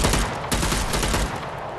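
A weapon fires in rapid succession in the zombie video game Dead Island 2, a loud, dense burst of continuous gunfire that fills the whole short moment with no voices.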